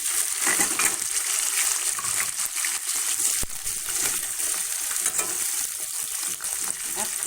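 Onions sizzle and crackle in hot oil alongside two dried red chilies, a steady close frying hiss with occasional stirring clinks, for a lamb and aubergine salan.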